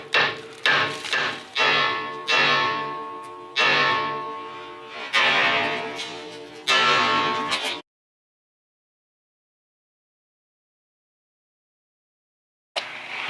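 A hammer strikes the wishbone ball joint on a Honda Accord, about nine sharp metallic blows in an uneven rhythm, close and loud, then silence, with one more hit starting at the end.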